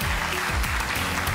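Studio audience applause on a Turkish televised dance competition, a dense steady wash of clapping that fills the whole moment at a constant, fairly loud level with no speech over it.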